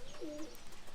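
A pigeon coos nearby in a single soft, rolling call that swells and fades, with faint ambient rustle around it.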